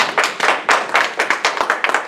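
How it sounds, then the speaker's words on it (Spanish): A church congregation claps in quick, rhythmic bursts, close and fairly loud, with no talking over it. "denle un aplauso al Señor"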